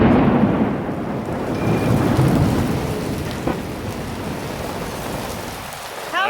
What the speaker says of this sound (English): it's pouring down rain and thundering